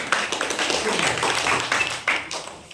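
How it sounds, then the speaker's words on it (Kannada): A classroom group claps for a correct quiz answer, a short burst of scattered, fairly close handclaps with faint voices mixed in. "ಚಪ್ಪಾಳೆ"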